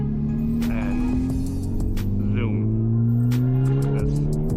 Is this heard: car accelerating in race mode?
yes